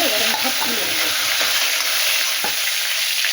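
Loud, dense sizzling of Bombay duck (lote fish) frying in hot oil, a continuous hiss close up with a few faint clinks.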